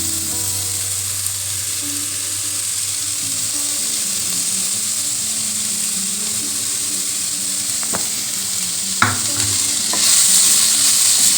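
Sweet potato leaves sizzle in a pan while coconut is added and stirred in, making a steady frying hiss with a few utensil clinks near the end.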